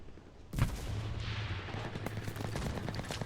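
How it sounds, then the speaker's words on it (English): Rapid semi-automatic gunfire from a German weapon in the shooter game BR1, a fast burst of loud close shots starting abruptly and continuing steadily to the end, with no talking. "This is really rapid fire semi-auto gun."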